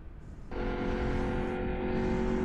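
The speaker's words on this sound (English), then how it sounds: "Evidently, that new engine's working well. It does sound good." Engine of a Mazda Miata race car on track at a Champcar endurance event, a steady loud drone that swells suddenly after half a second and holds at full volume.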